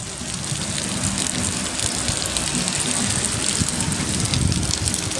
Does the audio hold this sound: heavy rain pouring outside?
yes